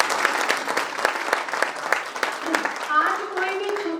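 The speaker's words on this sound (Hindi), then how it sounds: "रेणु के लिए भी ताली।" Lively applause from a gathered audience at a Brahma Kumaris event in Bahadurgarh, brisk clapping filling the first few seconds before voices and chatter take over as it fades.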